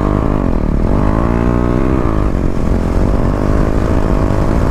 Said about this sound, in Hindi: भाई थोड़ा सा क्या एक्सीलेटर दिया